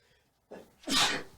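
A single loud, close human sneeze, a brief inhaled buildup followed by a sharp explosive burst that trails off, with no talk over it.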